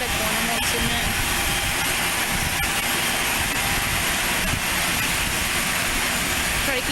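An aerobatic airplane taking off at Aurora Municipal Airport, its engine a steady loud drone heard from outside at a distance, with constant wind and ambient noise throughout.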